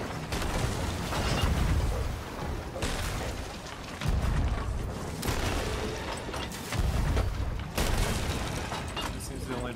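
Cannon fire and explosions in the Sea of Thieves pirate video game during a fight against a skeleton army: loud, sustained rumbling booms in repeated surges, filling the mix with heavy low-end blasts.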